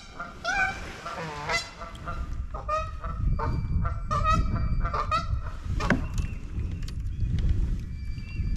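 Geese honk loudly and repeatedly near a kayak angler on Beaver Lake, with harsh overlapping calls over a constant outdoor background.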